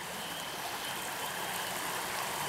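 Water in Frog Creek runs in a continuous, even rush, with no speech.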